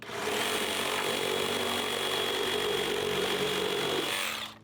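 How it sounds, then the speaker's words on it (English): A Sawzall reciprocating saw cuts through deck wood during demolition, a loud continuous buzzing grind held steady for about four seconds before stopping abruptly. "I'm gonna have to grab a Sawzall to finish my cut"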